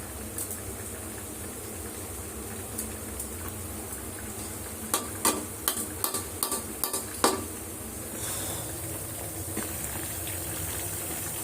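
Chicken fry and fried rice cooking together, with a steady sizzling hiss and a burst of quick metallic scrapes and clinks of a spatula against the pan midway through.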